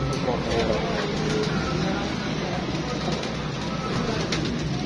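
Pigeons coo amid a dense, steady wash of background noise, with voices talking throughout.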